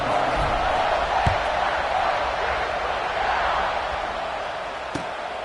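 In the NCAA 26 college football video game, a stadium crowd gives a dense, steady roar at kickoff, loud and unbroken throughout, with a few faint thumps.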